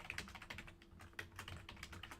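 Fingers tap steadily on a computer keyboard, a quiet, close run of irregular clicks with no voices.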